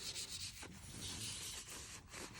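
Paper towel rubbing and wiping carbon fouling from the inside of a Beretta M9A4 pistol after 1,000 suppressed rounds, a steady close scrubbing swish with brief strokes and no talk.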